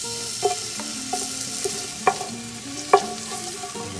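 Onions frying in oil in a pot give a soft, steady sizzle while a utensil stirs and clinks against the pot a few times at uneven intervals, close by.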